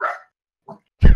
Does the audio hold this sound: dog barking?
yes